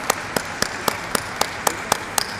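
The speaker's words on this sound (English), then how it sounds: "I please request all of you to give them a huge round of applause" Sparse, evenly spaced claps ring out at a stock exchange listing ceremony honouring a joint managing director, about ten sharp hand claps in a slow steady rhythm, fairly close and clear.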